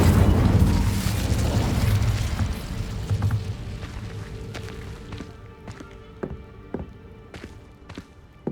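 An Incendio fire spell cast in the Hogwarts Legacy video game bursts out in a loud whooshing roar that fades over a few seconds, followed by scattered light taps and clicks over a quiet musical background.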